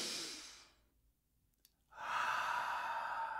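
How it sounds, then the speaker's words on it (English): A deep sigh-like breath in a quiet guided relaxation, a long exhale at the start fading to near silence, then a strong, sustained, close breath that continues to the end. "take a deep breath"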